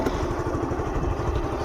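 A Yamaha Ray scooter engine running at idle, a steady close-up low putter with even rhythmic pulsing and slight mechanical clatter, heard alone without talk.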